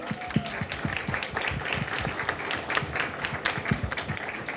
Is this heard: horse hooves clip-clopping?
no